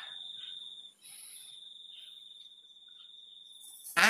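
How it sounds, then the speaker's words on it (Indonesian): Crickets chirp in a steady, continuous high trill close by in a quiet setting, with a short loud rustle or thump right at the end. "Jangkrik ini yang Anda dengarkan suaranya kan bergerak."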